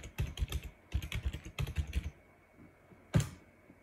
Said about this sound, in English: And we need to type in the password.